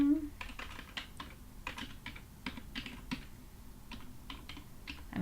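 Steady bursts of keystrokes on a computer keyboard during a live coding session, close and moderately loud, with irregular rhythm and short pauses between runs.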